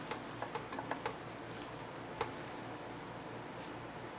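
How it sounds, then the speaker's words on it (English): Sauce being stirred through buttery garlic noodles in a pan, a soft steady wet hiss with a handful of light ticks and clicks from the utensil, close and quiet with no talking. "I'm going to throw in the sauce into the noodles and make sure everything's stirred through"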